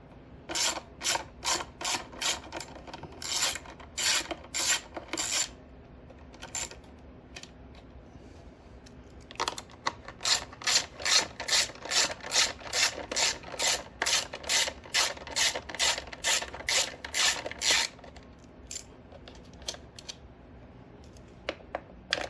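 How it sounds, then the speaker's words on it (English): A hand ratchet backs screws out of the inside center cover of a Predator 9000-watt generator, making quick rhythmic clicking in two long runs with a pause between, close and clear with no talking. "We're going to go ahead and pull these 6 screws out here."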